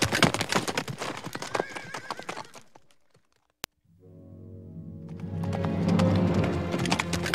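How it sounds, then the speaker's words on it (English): A horse gallops off with hooves clip-clopping, then neighs loudly and whinnies over a low rumbling bed of sound, with a brief silent gap between the two parts. "Leaving Sorsha behind, Mad Martigan mounted his horse and took off after Willow."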